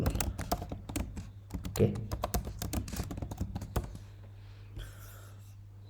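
Rapid clatter of computer keyboard keys typing a search query for a Django debugging tool, a dense burst of close clicks that stops abruptly, with a brief spoken word and a steady hum beneath.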